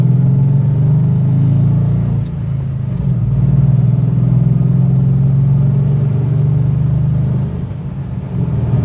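Manual-transmission Ford Crown Victoria engine holding around 3,500 RPM on the road, a loud, steady low rumble from inside the car with slight swells, no talk.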